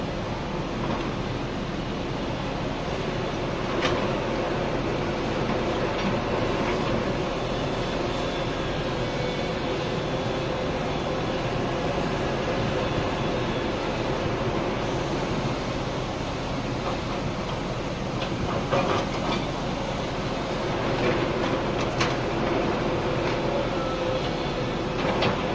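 A hydraulic excavator works outdoors diverting a stream's course, producing a steady, continuous rumbling machine drone with faint clanks throughout, no voices.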